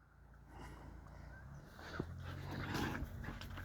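A dog whimpers and whines softly over a steady low background hum, with a small yelp partway through.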